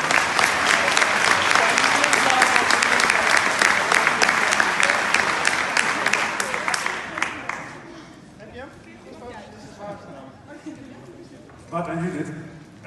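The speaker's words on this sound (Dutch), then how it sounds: "nog maar een keer een applaus voor Mark Rutte." An audience at a florist-of-the-year award ceremony bursts into loud, dense applause that fades after several seconds into murmuring chatter and voices, with a brief renewed burst near the end.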